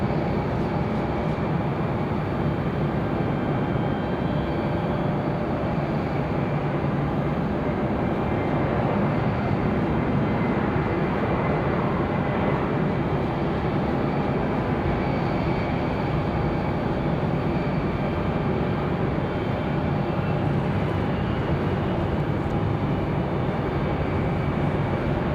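A Frontier Airlines jet arriving from Denver at Raleigh-Durham International, heard as a steady, continuous roar of engine and airflow that holds evenly for the whole stretch with no talk.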